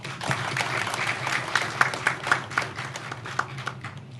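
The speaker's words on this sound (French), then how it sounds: "pour lequel on doit applaudir" An audience applauds at a formal Haitian ceremony honouring the telecom company NATCOM, with a moderate, uneven patter of clapping and a few sharper individual claps standing out over steady room noise.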